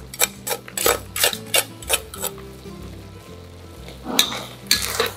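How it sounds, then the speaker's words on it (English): Rice with fried anchovies stirred in a rice cooker pot, a series of rhythmic scraping strokes with a faint simmering underneath, close and moderately loud. "Mix well and let it cook again."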